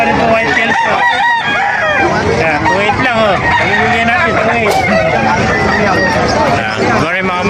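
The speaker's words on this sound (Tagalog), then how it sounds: "Papakita ko sa inyo mga manok dito sa Bukal." Several roosters crow repeatedly and loudly nearby at a chicken market in Bocaue, Bulacan, their calls overlapping with clucking hens and a busy background of voices and activity.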